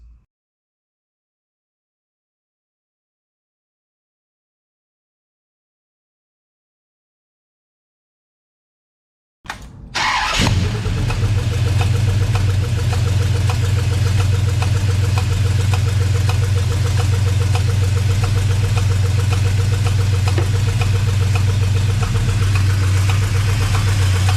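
A Chrysler 440 V8 in a 1968 Dodge Charger, swapped in from a motorhome and fed by dual carburetors, follows about ten seconds of silence with a sudden crank and catch, then settles into a loud, steady, lumpy idle that runs to the end.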